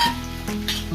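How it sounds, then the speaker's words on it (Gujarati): Tindora (ivy gourd) and potato pieces fry in a pan with a close sizzle and a few brief scraping stirs. Short bursts rise and fall over one second. "આપણે ટીંડોળા નાખી દઈશું. બટેટા નાખી દઈશું"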